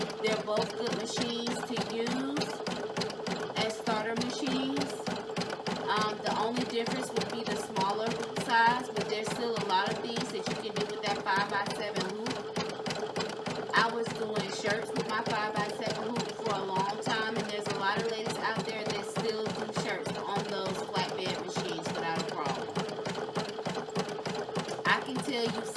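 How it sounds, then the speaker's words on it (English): A home embroidery machine, a PE800 or PE770, stitches out a bib with a steady rapid mechanical chatter that runs close and continuous throughout, while a person talks over it. "sitting here and watching this stitch out, I'm just thinking, wow, I haven't stitched on this machine in so long"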